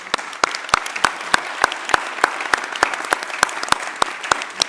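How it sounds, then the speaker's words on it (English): An audience at a partnership conference breaks into steady applause, a dense, even patter of many hands clapping throughout, fairly loud and sustained, with no talking over it. "I think that we should sort of thank you with a round of applause"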